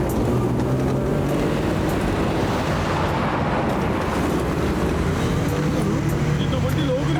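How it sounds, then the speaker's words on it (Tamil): A cartoon vehicle drives into Lokari's house with a dense, continuous rumbling roar, loud and steady throughout, with no break or change. "இந்த வண்டி லோகரிக்கு வீட்டுக்குள்ள போகுது"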